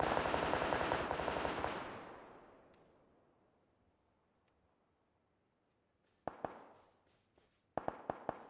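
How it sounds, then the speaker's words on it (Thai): Video game gunfire: a loud, fast burst of automatic shots fades into a long echoing tail and near silence, then a few sharp single shots and a short final burst ring out at a distance. "ยิงจากฝั่งนู้น"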